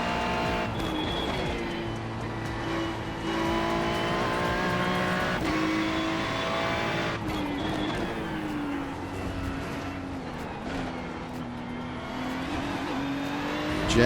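A race car's engine drones steadily in the iRacing sim, its pitch rising and falling through gear changes with occasional tire squeal, loud and continuous with no talk.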